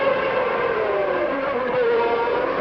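A 1991 Formula One car races through the Monaco Grand Prix street circuit beside the swimming pool, its high-pitched engine a steady, loud scream with a slowly shifting pitch across the whole stretch.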